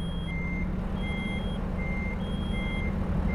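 Repeated electronic reversing beeps from a truck in American Truck Simulator, a steady on-off rhythm of high tones over a continuous low diesel engine rumble.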